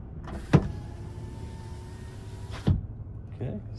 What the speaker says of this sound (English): Same thing here, automatic up and down windows.